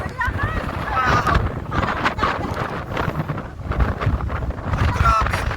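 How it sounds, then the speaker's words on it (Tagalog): Strong wind gusts buffet the microphone in uneven surges near the sea in Ilocos, while people talk excitedly over the roar. "ang lakas ng hangin"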